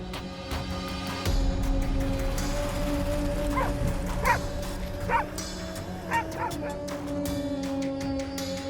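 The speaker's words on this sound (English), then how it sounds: "the pack of dogs usually gathers in groups, barking loudly and constantly moving around" Several dogs bark in short, scattered bursts over a steady droning hum, the yaps loud and irregular with a few whimpering tones mixed in.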